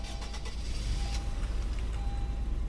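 A Honda Passport in sport trim starts up inside the Roblox Greenville driving game, settling into a steady, low engine rumble that runs unbroken for a few seconds with no one talking.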